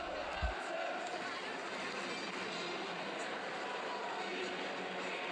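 Stadium crowd atmosphere at Valley Parade for a Bradford City match in the football management game Football Manager 2024: a steady, diffuse murmur of a large crowd, moderately faint and constant, with a brief thump near the start.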